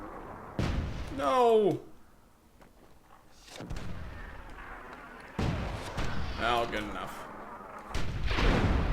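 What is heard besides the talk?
explosions in the video game Myth II: Soulblighter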